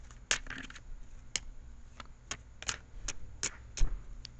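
A deck of tarot cards being cut, giving a series of sharp, close card slaps and flicks at irregular intervals over a faint room hum, with no talking.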